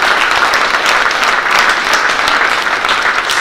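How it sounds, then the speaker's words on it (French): An audience applauds loudly and steadily for someone's 30 years of service, a dense wash of clapping close by that lasts throughout. "30 ans de service, ça s'applaudit, mesdames et messieurs"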